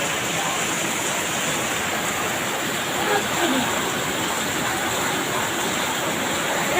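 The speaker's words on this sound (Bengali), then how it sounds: "কি প্রচন্ড বৃষ্টি হচ্ছে বাবা রে" Heavy rain pours down during the Durga Puja festival, making a dense, steady, loud roar of water with no individual drops standing out. It keeps a constant intensity throughout.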